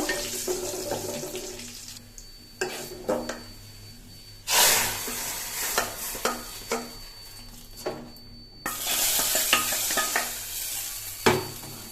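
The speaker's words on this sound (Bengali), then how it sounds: "এখন বাগারটা দিয়ে নিব" A tempering of browned onions goes into lentil dal with sharp bursts of sizzling and stirring, interspersed with water-like hissing and quieter gaps, loud and close with no speech.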